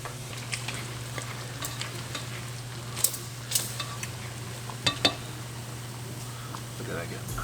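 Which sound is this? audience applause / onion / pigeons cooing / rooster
onion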